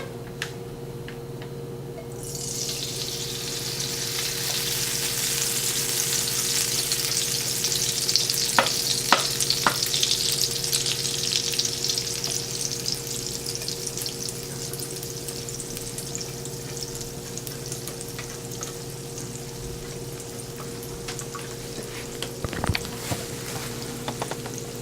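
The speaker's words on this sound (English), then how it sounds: "Carefully take out your hot pan and then pour the batter in to get that sizzle and crust." Cornbread batter poured into a hot pan sets off a loud, steady sizzle that rises sharply at the start and then holds continuously, with a few faint clicks and no talking.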